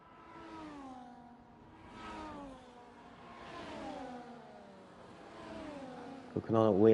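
Race car engine in a video game pulling away from a pit stop at Abu Dhabi after a front wing change, its whining tone rising and falling in waves before a sharp, louder burst at the end.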